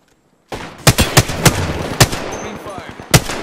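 Video game gunfire: after a brief silence, a dense run of loud, sharp shots crackles close by, with several strong separate bursts standing out over a busy battle background.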